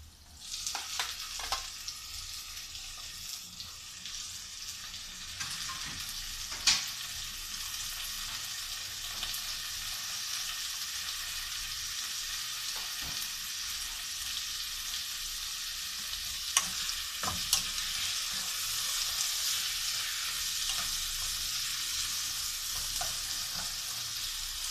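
Tomato fries in a pan for a beef and mixed vegetable sauté, giving a steady loud sizzle throughout with occasional scrapes and clinks of stirring, close up and without talk.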